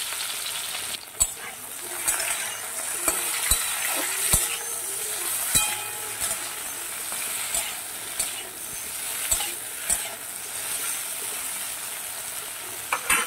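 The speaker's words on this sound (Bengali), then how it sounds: "তেলটা গরম হয়ে গেছে, দিয়ে দিচ্ছি ঢেঁড়সগুলো" Okra dusted with turmeric and salt frying in hot oil in a kadai, a steady hissing sizzle punctuated by regular metallic taps and clinks of a spatula, heard up close with no voices.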